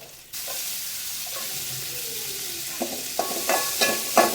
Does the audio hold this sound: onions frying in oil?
yes